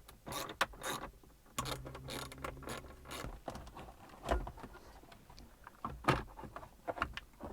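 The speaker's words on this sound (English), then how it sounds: "we have the ashtray that we want to take out, and it looks like it'll just get removed with two 8mm screws right here" Hand tools click and ratchet while loosening the two 8mm screws that hold the ashtray in the center console of a B6 Audi A4, giving a close run of irregular metallic clicks and rattles with no talk.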